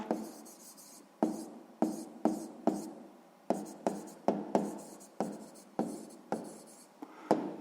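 A pen or pencil writes an answer by hand on paper, a series of sharp strokes and taps in an uneven rhythm, close and fairly quiet, with no talking.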